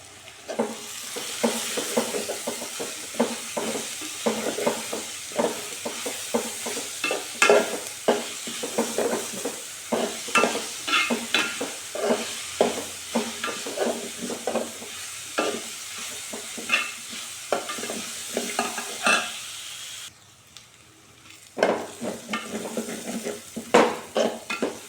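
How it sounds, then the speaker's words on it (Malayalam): Onion, green chilli and ginger are sautéed in oil for a Kerala chicken curry. A spoon scrapes and clatters against the pan in quick irregular strokes over a soft sizzle, close and steady, with a brief pause near the end. "അപ്പോൾ നമുക്കതൊന്ന് വഴറ്റിയെടുക്കാം"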